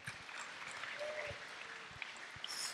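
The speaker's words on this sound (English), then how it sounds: "Can I get a big round of applause," Audience at a comic convention games stage giving a round of applause, a dense, moderately distant patter of clapping that holds steady throughout, with a few sharper claps.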